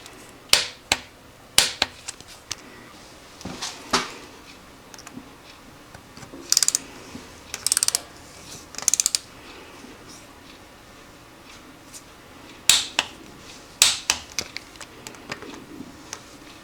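Tightening 6 mm bolts on a 1984 Honda CB700SC motorcycle with a torque wrench, with sharp ratcheting clicks and metallic snaps in scattered bursts close by, and brief pauses between groups.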